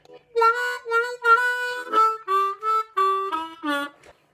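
A harmonica plays the main riff of a song as a run of sustained, bent single notes with breathy attacks, clear and close with no talking.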